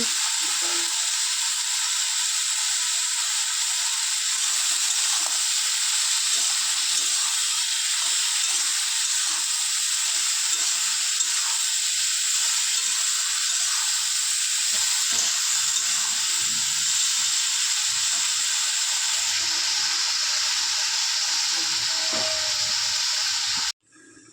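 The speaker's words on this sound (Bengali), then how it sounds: "সবজিটাকে একটু নুন আর হলুদ দিয়ে ভেজে নেবো" Vegetables frying in a pan with salt and turmeric make a loud, unbroken sizzling hiss that runs steadily for over twenty seconds, then cuts off abruptly.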